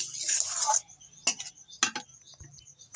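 A lid is set onto a cooking pot over a wood-fired stove, giving two short metallic clanks after a brief rattle, with quiet gaps between.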